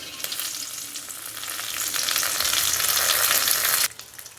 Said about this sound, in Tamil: வானலில் ஒரு ரெண்டு அல்லது மூணு ஸ்பூன் எண்ணெய் விட்டுக்கிட்டு எண்ணெய் காயிஞ்சதுக்கு கடுகு போட்டுக்கலாம் கடுகு நல்லா பொரிஞ்ச